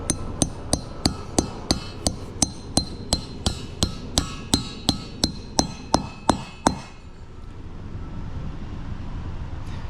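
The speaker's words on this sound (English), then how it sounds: "you want the nut to be at the top, so that way when you hammer it down" Steady, rapid hammer blows ring sharply against metal as a wedge anchor is driven into concrete, about twenty in a row, then stop, leaving a low background hum.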